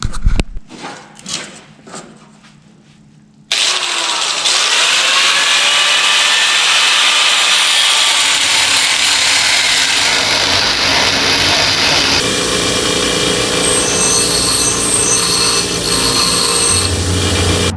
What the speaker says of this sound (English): I'm gonna get this cut and get it welded in.